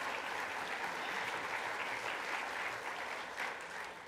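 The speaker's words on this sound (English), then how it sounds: "That's worth a big round of applause, too" Applause from an audience at a university state-of-the-university address, a soft, even patter of many hands clapping steadily throughout, heard from a distance.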